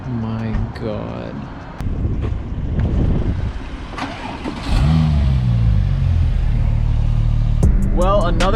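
A Porsche GT2 engine revs and rumbles nearby in a deep, rising growl that swells and surges at a meet of parked cars. Voices and wind buffeting break in now and then, and another short rev comes near the end.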